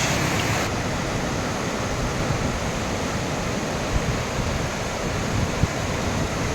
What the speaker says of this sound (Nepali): रोसी खोलाको पानीको लेभल चाहिँ एकदम बढिरहेको छ।